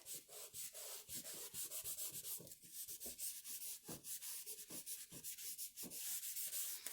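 Crayon rubbed back and forth on paper to blend colour in a cherry blossom drawing, a steady close scratchy rasp of repeated short strokes lasting throughout with no talking.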